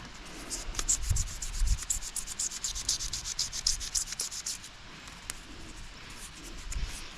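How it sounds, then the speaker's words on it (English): 1000 grit sandpaper rubs back and forth over Coleman gas stove parts during cleanup, a close, soft, continuous scratchy hiss with uneven strokes and no talking. "what I've been using is 1000 grit sandpaper to do this cleanup"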